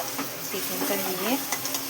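Chicken stir-fried with biryani masala, ginger and garlic paste in a pan, giving a close, steady sizzle with scraping stirs and faint clinks, brief and moderately loud.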